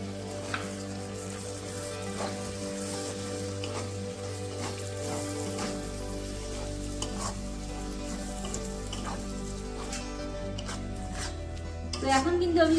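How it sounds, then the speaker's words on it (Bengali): Tomato paste with spices fries steadily in a pan, a low, continuous sizzle with faint stirring scrapes, set under a sustained musical background throughout. "তো আমাদের এই মশলার মধ্যে কিন্তু আমি কিছুটা টমেটো পেস্ট দিয়ে দেবো।"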